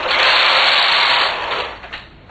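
A knitting machine fitted with a ribber carriage sweeps one row back in a drop stitch lace pattern, a loud continuous whirring slide that starts strong and eases off toward the end, close and alone.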